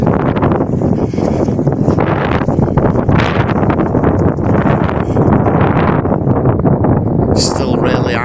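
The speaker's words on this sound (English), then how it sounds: "That wind's strong, but not as strong as yesterday" Strong gale-force wind buffets the microphone outdoors during a Beast from the East snow storm while a Jack Russell terrier is walked, a steady loud roar with gusts throughout.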